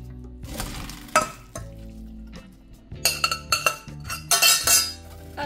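Cooked tortillette pasta tumbles into a metal pan with clinks and clatters, followed by a few louder bursts of scraping and sizzling-like noise near the end.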